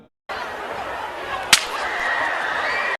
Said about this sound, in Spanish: Y finalmente un último disparo.